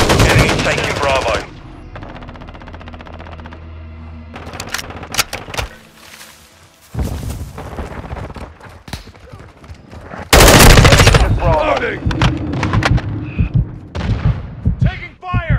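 Dense bursts of automatic gunfire and heavy booms in Call of Duty: Modern Warfare II, loud and close, with rapid rattling volleys separated by brief lulls and game voice callouts mixed in.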